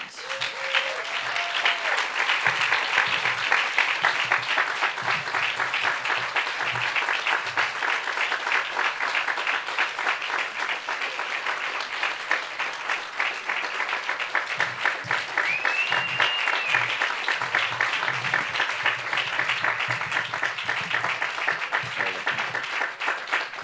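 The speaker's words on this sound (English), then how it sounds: "Please join me in giving them a warm round of applause and welcome them to the stage." Sustained audience applause at a groundbreaking ceremony for a new YWCA building, steady dense clapping from a large crowd lasting over twenty seconds, with faint voices briefly audible underneath.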